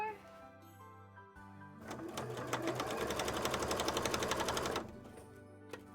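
Sewing machine stitching fabric for cosplay arm wings, a fast steady needle rattle that starts near second two and runs for about three seconds before stopping, with quiet room sound around it.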